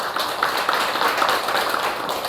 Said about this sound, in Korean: 우리 홍미진 선생님 박수로 맞이해 주십시오